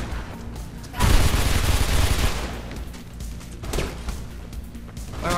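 Sustained gunfire bursts in the video game Mirror's Edge, a loud fusillade erupting after a second and trailing off into scattered shots and rumbling game noise.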